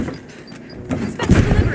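A thrown grenade explodes in the video game The Finals, a heavy boom bursting out after a second of quieter game noise, followed by rumbling debris.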